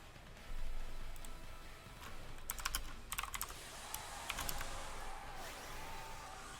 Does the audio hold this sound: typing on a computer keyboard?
yes